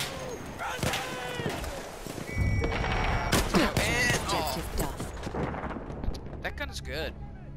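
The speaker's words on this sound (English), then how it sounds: "Yeah, let's use this shotgun. It's a slug shotgun, so it has more range." A slug shotgun fires in the video game Battlefield 1, with a few heavy booms amid busy battlefield noise and chatter, one loud blast standing out near the middle.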